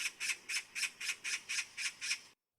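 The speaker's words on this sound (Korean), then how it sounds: "아침 까치가 짖으면 손님이 온다는데" Magpie perched on a village house roof giving a rapid series of eight harsh, evenly spaced squawking calls, close and clear with no other sounds.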